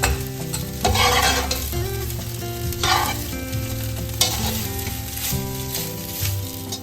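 Salted boiled rice is stirred and mixed in a pan for prawn biryani, with loud, close, repeated scraping strokes over a steady sizzle and soft music behind.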